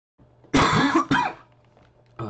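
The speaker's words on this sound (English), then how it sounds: "I still got a bit of a cough" A person coughs twice in quick succession, loud and close, then a third cough begins at the end, with no talking.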